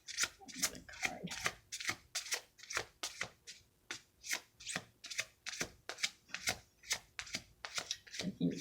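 Tarot cards being shuffled and drawn from a deck, a steady run of crisp riffling swishes close up and fairly loud, repeating about every third of a second with no voice over them.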